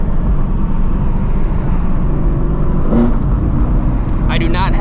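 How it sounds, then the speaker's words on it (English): A straight-piped Shelby GT350, exhaust valves closed, drones steadily while driving on the road, a constant loud broadband rumble with a faint higher tone near the end. "I know a lot of you guys want to hear what this car sounds like"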